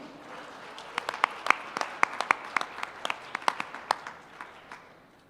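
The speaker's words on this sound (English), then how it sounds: "Please give a round of applause to our second finalist, Ms. Diana Beltran from Lancaster Elementary" An audience at a teacher of the year gala applauds a finalist with scattered, lively clapping that holds steady for a few seconds, fairly close.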